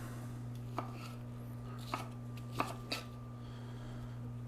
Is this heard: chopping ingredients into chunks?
yes